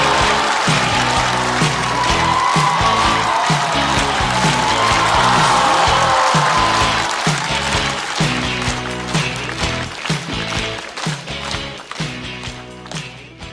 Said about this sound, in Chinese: 掌声欢迎大国手。